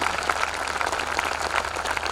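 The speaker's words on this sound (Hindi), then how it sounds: "एक बार जोरदार तालियां भाई मुन्ना बैटरी के लिए" A crowd at a Kavi Sammelan poetry gathering claps loudly for poet Munna Battery, producing dense, continuous applause that stays strong throughout, with no speech.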